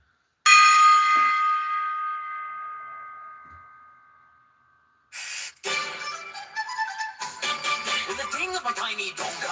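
A single gong stroke blooms loud and rings out with a long, slowly fading shimmer over about four seconds. After a short pause, clattering noises and indistinct talk follow.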